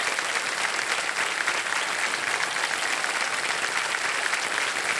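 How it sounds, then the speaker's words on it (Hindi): Studio audience on the KBC quiz show claps in sustained, dense applause, loud and even throughout with no voices over it. "ताली बजती रहे इनके लिए"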